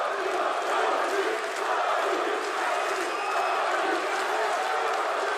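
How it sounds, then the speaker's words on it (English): Boxing crowd in a Paris arena cheering on a home heavyweight, a loud, sustained roar of voices with swells of shouting and some clapping. "The crowd here in Paris trying to get behind their man"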